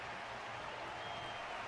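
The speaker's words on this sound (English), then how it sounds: "Their constant applause is a salute to this resilient Belabogian" Steady, distant crowd applause in the Zenless Zone Zero video game, a continuous faint wash of clapping saluting a fighter in a match, with no voices on top.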